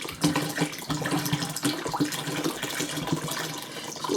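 Water used while making water and milk kefir is poured out into a kitchen sink, a continuous gurgling splash with uneven glugs, close by and moderately loud.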